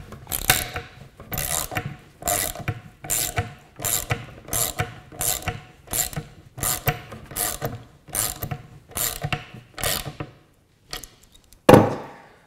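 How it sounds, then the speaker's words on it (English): A ratchet wrench tightens 5-inch lag screws with washers into the legs of an octagonal picnic table, making about a dozen regular clicking strokes, close and fairly loud, with no talking. "I've got some 5-inch lag screws and some washers on it, and I'm just tightening it up now."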